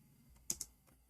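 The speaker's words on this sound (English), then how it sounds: "Oh, I'm typing in English again." Two sharp keystrokes on a computer keyboard, close and quiet, a quick double tap followed by faint softer clicks, with no talking.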